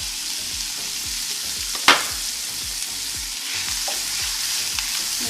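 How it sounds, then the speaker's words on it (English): Scallions, garlic and onions sautéing in a pan, giving a steady close sizzle with faint rhythmic stirring and a single sharp clink from a utensil against the pan. "Make sure you saute that down until the onions are beautifully translucent."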